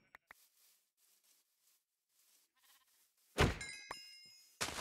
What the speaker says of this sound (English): Oh, there's baby sheep.